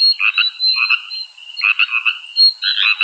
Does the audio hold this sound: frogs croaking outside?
yes